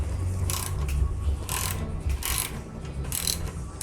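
A socket ratchet on an extension clicks as it loosens the exhaust clamp on a 2014 Kawasaki Ninja 1000, several quick bursts of close metallic ratcheting separated by short pauses.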